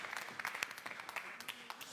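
A talent-show audience in Naples claps for a contestant, with faint, distant, scattered applause over a quiet room.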